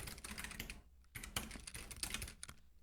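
Quick bursts of fingers typing on a computer keyboard while coding, close and soft, with brief pauses between runs of rapid key clicks, no talking.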